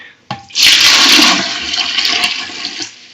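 A newly installed toilet set on a tiled floor is flushed as a test: a click of the button, then a loud, rushing surge of water that gradually settles into a gurgling refill.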